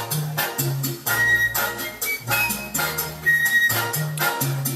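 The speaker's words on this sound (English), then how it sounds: "Listen to the flute." A flute plays the opening theme of a song over a Latin band groove with bass and percussion, the melody's distinct notes standing out clearly in a lively, moderately loud passage with no talking.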